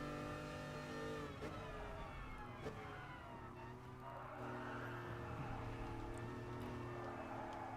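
Ford GT40 engine in Gran Turismo Sport revving hard under full throttle, a droning racing engine with rising and shifting pitch, steady and moderately loud throughout.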